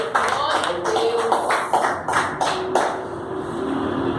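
A Pentecostal church congregation claps during a healing and deliverance service, with sharp, rhythmic hand claps arriving in irregular bursts under a speaking voice and sustained musical tones.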